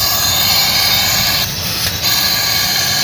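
Built-up pressure escapes from an air conditioner unit as a loud, steady, close hiss, briefly wavering twice before rushing on evenly.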